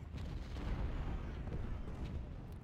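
Cannon and artillery fire from an American Civil War battle at Marye's Heights in Ultimate General: Civil War, a dense continuous rumble of booming shots layered together at steady loudness.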